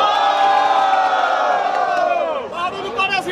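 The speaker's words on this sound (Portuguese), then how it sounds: "Barulho para as rimas do Akraut" A crowd at a Brazilian rap battle semifinal cheers and shouts loudly for a rapper, a dense roar of voices sustained throughout with a brief dip near the end.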